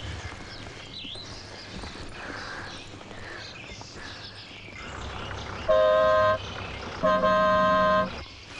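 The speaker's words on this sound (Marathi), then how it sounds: "अगं बसचा हॉर्न वाजतोय" A bus horn gives two loud, sustained honks, the second longer than the first. Before them comes a stretch of street noise with hoofbeat-like clatter and passing traffic.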